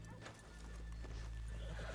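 Horses in Red Dead Redemption II clip-clop on a town street with a whinny mixed in, the hoofbeats close and steady over a low ambient hum.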